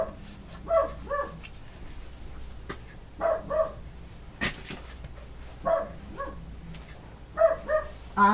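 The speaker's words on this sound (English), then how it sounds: "He's barking out the back door." A dog named Oz barks at the back door of a house in short, moderately close bursts of two or three woofs, with quiet pauses and a few whimpers between the bursts.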